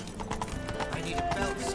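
The horse Roach gallops in The Witcher 3, its hooves beating a quick, steady clip-clop rhythm over ambient game sound for a brief moment.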